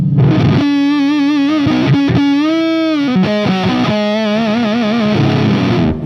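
A sustained, heavily distorted electric guitar through a Fuzz Face pedal with a thick fuzz tone, notes swelling and bending with wavering vibrato, loud and continuous throughout.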